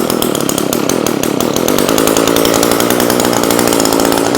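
An Echo chainsaw engine that sat unused for a year or more roars loud and close, its raspy two-stroke buzz running steadily without pause.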